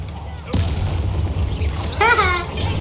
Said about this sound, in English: I turned one of them into an exploding barrel